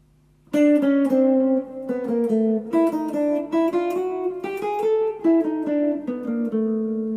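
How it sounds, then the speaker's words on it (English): A guitar plays a legato melodic line close and clear, moving through Dorian scale notes with chromatic passing tones in a steady run of distinct plucked notes. No voice is heard over it. "if you now talk about chromatics, we can play the tone in between the scales"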